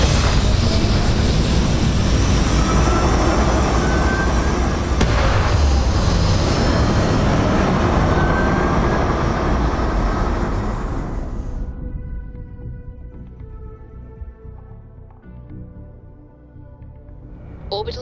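Spaceship liftoff in the game Starfield: a loud, broad engine roar that rumbles steadily for about eleven seconds, then thins and fades, leaving quieter ship hum with faint tonal chimes.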